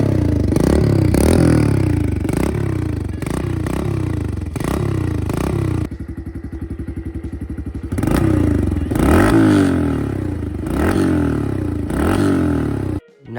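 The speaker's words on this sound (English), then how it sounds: "Here's a cold start of the KLX." A Kawasaki KLX 110cc dirt bike is cold started with repeated close thumping, clattering kicks or cranks, catches into a rapid fast idle for a couple of seconds, then more chugging bursts before cutting off.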